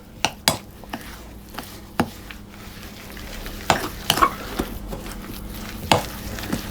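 A knife works eggs into almond oatmeal cookie dough in a bowl, with soft stirring and sharp scattered clicks and taps against the bowl, close up and uneven in rhythm.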